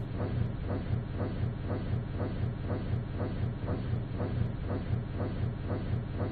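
Steam locomotive running at about 30 km/h in the Traincraft video game, a loud steady rhythmic chuffing with regular beats about every third of a second and constant low rumble, heard alone.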